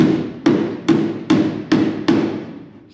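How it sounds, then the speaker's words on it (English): Six evenly spaced metallic body hammer taps on the quarter panel of a 1966 Impala SS, each ringing briefly before the next, loud and close. "And my body hammer."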